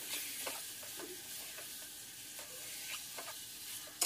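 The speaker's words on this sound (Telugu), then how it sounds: "సో పచ్చివాసన పోయే వరకు చక్కగా 5-6 నిమిషాలు వేయించుకోండి మీడియం ఫ్లేమ్లో." Mutton coated in ginger garlic paste fries over a medium flame in a village-style kitchen, a steady, soft sizzle with occasional stirring scrapes.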